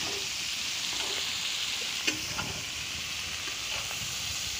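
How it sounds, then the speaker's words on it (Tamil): Onions and tomatoes sizzle steadily in a pan for tawa chicken, a continuous close hiss with a few soft stirring clicks and no voices. "நெக்ஸ்ட் தக்காளி ஆட் பண்ணிக்கலாம். நம்ம நல்லா போட்டு வறுத்து எடுத்துக்கலாம்."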